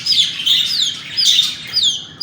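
Several shrill, repeated chirps and squeaky calls from pigeon chicks close by, in quick overlapping bursts.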